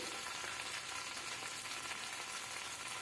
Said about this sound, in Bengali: তেলের উপরে সবজিটা একটু নাড়াচাড়া করে নিচ্ছি